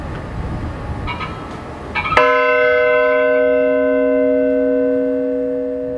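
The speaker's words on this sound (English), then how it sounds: "Just under the lighthouse is this bell." A single strike on a large metal Coast Guard bell displayed beneath the New Canal Lighthouse on Lake Pontchartrain, New Orleans, ringing out loud and clear with a long sustained hum slowly fading after faint outdoor background noise.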